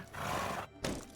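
A horse in the video game Medieval Dynasty gives a short, close whinny, a brief neigh-like call that breaks off and then resumes for a moment.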